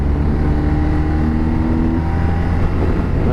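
BMW R 1250 RT touring motorcycle, 2023 model with a boxer twin, downshifting on the road, a loud steady engine drone with shifting tones as revs change, heavy wind rush throughout, no voices.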